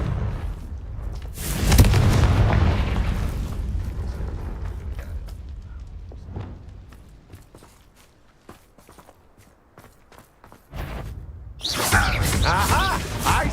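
A Confringo spell explosion in a magic video game, heavy booms and bursts with whooshes and footsteps between, loud near the start and again near the end, with a voice calling out.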